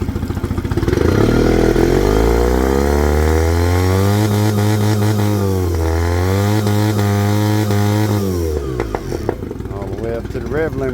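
A Suzuki DF20A outboard motor, covers on, is put in gear and revved hard, its loud buzzing engine note climbing and dipping steadily for about eight seconds before dropping back, with voices faintly underneath.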